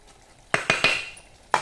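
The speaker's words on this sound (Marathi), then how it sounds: "जरा हलवून" Mutton being stirred in a cooking pot, a few scraping, clattering strokes of a utensil against the metal over a faint sizzle, close and fairly loud.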